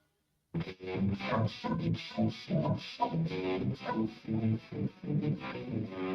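Podcast intro jingle laden with distortion, chorus and other audio effects, starting after a brief silence and running loud and continuous with punchy rhythmic bursts and heavily processed tones throughout.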